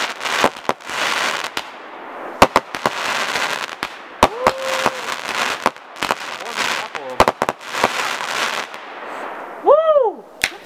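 New Year's Eve fireworks with a lance piece go off nearby, a run of loud bangs and crackling bursts with a few whistling rising tones, while people talk and cheer underneath.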